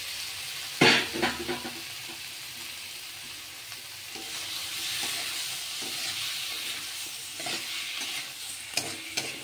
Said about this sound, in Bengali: মশলাটা মোটামুটি কষা হয়ে গেছে। এবারে তরমুজগুলো দিয়ে দিলাম সেদ্ধ করা।